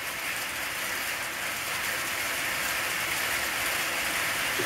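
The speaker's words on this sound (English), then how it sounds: "You hear that hail hitting the roof?" Pea-sized hail pelts a roof in Capitan, New Mexico, a dense, even rattling hiss that holds steady and loud throughout without talking.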